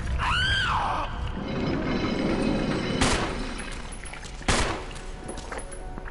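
Gunfire in the Resident Evil Remake video game: two sharp, loud gunshots about a second and a half apart, preceded by a brief rising-and-falling shriek-like sweep over a rumbling game background.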